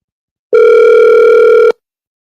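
A single steady electronic telephone tone sounds loud and close for a little over a second, then cuts off abruptly into silence, heard while a call is being placed back.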